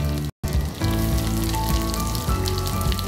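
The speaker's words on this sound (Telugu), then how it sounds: "ఉల్లిపాయలు బాగా ఫ్రై అయిపోవాలి" Chopped onions frying with curry leaves in hot oil, a steady dense sizzle and crackle filling the pan throughout, close and fairly loud with a brief cut near the start.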